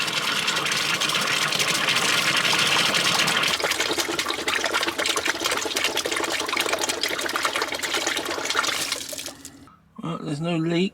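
A newly replaced water pump pushes a constant stream of water through the system, a loud steady gushing rush close by that fades near the end, followed by someone talking.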